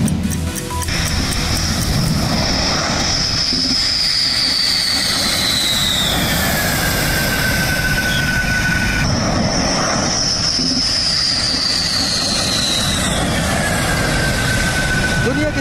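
A Rafale fighter jet lands at night at Jamnagar, Gujarat, its loud continuous roar and rising and falling whine sustained for the whole stretch, close and overpowering.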